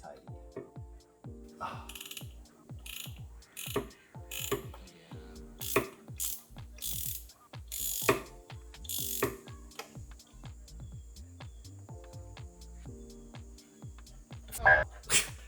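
Hand ratchet loosening a spark plug on a Toyota GR Supra, a run of quick dry clicking strokes in repeated bursts, fairly close, with a brief voice near the end.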